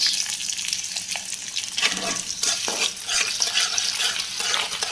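Sliced onions fry with black cumin seeds in a hot pan, giving a continuous close crackling sizzle with occasional stirring scrapes.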